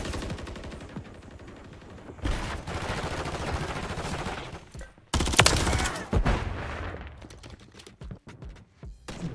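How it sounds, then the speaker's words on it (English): Bursts of SMG fire in Modern Warfare 3, loud rapid volleys starting and stopping in short strings, with other game sounds in between. "I'm just gonna keep on with my SMG because I feel like I could do good."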